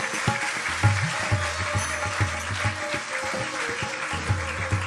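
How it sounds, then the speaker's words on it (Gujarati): A seated audience at a religious katha gathering claps together, a dense, steady spatter of applause held for several seconds under a low rhythmic background. "એકવાર જોરદાર તાળીથી આપણે અહીંયા બેઠા બેઠા વધાવો."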